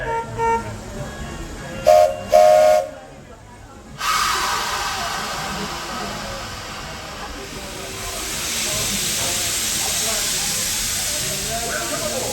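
The Lilly Belle steam locomotive of the Walt Disney World Railroad starts a grand circle tour, with a short whistle toot and then a rising, steady loud hiss of steam close by, and a few spoken announcements early on.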